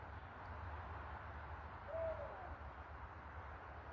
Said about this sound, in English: I'm hoping that's just an owl.